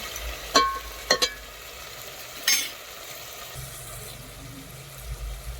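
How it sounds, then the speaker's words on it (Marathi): Spoon stirring ginger-garlic paste into sautéed tomato and onion in a pan over a wood-fired stove for mutton biryani, a few sharp scraping clinks over a low steady sizzle, with no one talking. "ते आलं लसूण छान मिक्स करून घेतले टोमॅटो कांद्यामध्ये दोन मिनिट चांगलं परतून घेतलेलं आहे"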